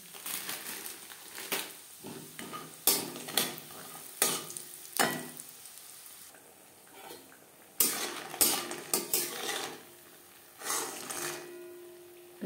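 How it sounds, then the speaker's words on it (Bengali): Lentil dumplings (bori) frying in refined oil in a pan for a spinach curry, with intermittent stirring, scraping and clinks of a utensil against the pan over a soft background sizzle. "বড়ি ভেজে নেব।"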